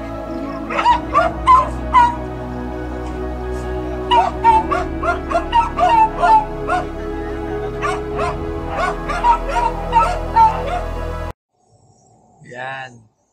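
A dog gives close, loud bursts of high yips, whimpers and short barks in an excited, uneven rhythm that stops abruptly, followed by one faint whine.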